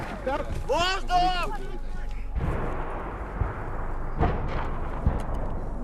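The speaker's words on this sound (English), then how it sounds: "There's a fair amount of incoming fire coming into this now." Incoming artillery fire in a Ukraine war zone booms as dull, heavy thuds and a rumbling roar beneath someone talking, with a few sharper impacts spaced through the clip.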